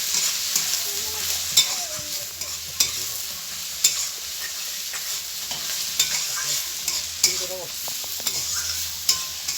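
Garlic paste fries with browned onion in oil, a continuous close sizzle broken by regular sharp knocks and scrapes as a spoon stirs the pan, with a few brief squeaky tones.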